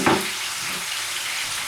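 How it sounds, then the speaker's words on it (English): Hot links frying in hot oil, a brief burst followed by a steady, soft crackling sizzle heard close up without any voices. "Now we got our hot links going. They're going to cook really fast in the oil."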